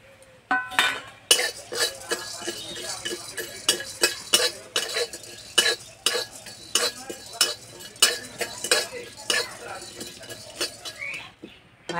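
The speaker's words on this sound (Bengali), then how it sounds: "এবার গোটা মশলা ভেজে নেব" Whole spices (radhuni, black pepper, cinnamon, cloves, cardamom) dry-roasting in a pan, stirred with a utensil in rhythmic scraping clinks repeated about every half second, close and clear.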